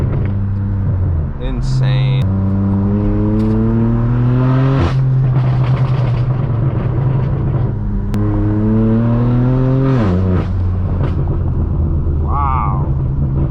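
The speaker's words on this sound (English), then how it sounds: "there's the 812 making all the noise" A Ferrari 812 supercar's V12 roars close by, revving up in long climbing pulls with sharp shifts, loud and dominant while a person exclaims briefly over it.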